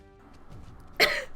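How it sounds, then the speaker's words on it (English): A single short, sharp cough near the end of a quiet moment at a tabletop role-playing session. "You didn't have a cough a minute ago."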